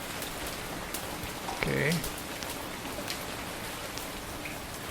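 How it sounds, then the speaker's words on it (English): Steady, dense rainfall in the video game Dagon, a constant hiss of drops on surfaces filling the scene throughout, with a brief spoken word over it. "rain sound. That's kind of relaxing."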